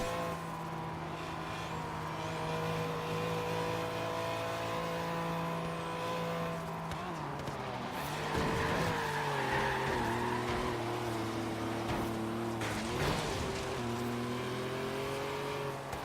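A Buick Grand National's turbocharged V6 in Forza Horizon 3 drones steadily, then revs and shifts through gears with rising and dipping pitch, heard up close with no talking.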